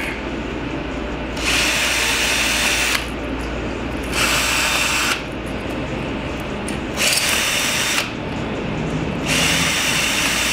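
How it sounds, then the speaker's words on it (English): A power drill whirs in four bursts of a couple of seconds each, separated by short pauses, over a steady low background hum. "Got the drill."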